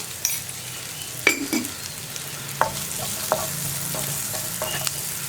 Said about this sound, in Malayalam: ഇളക്കി കൊടുത്ത് ഒന്ന് റെഡിയാക്കി എടുക്കുക